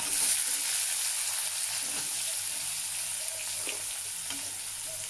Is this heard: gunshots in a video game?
no